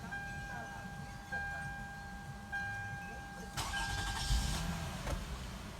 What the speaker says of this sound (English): So I'm going to start this car right now.